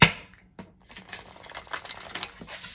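A deck of tarot cards is shuffled up close, giving a burst of rapid, papery riffling and clicking. The shuffle is brief and heard alone, without speech.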